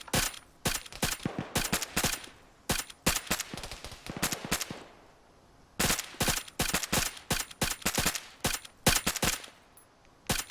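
Close, loud bursts of automatic gunfire in a military video game, rapid volleys of shots broken by short gaps and a longer pause midway, with no voices.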